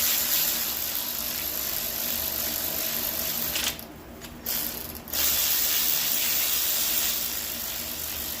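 A ratchet spins head studs down into the block of a 5.3 engine, a steady rapid clicking that carries on nearly throughout, with a brief drop around the middle.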